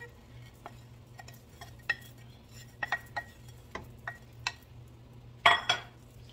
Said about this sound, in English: Give all of that a good stir.